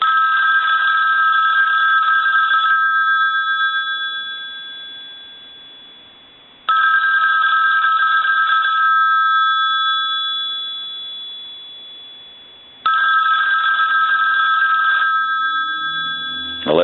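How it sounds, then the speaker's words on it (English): Metallic bells of a Western Electric 500 desk telephone ring loudly in three long bursts, each trailing into a fading ring before the next begins, heard up close with no talking. "I want to ring the telephone. If you watch the bells here, you'll see the action on the bells."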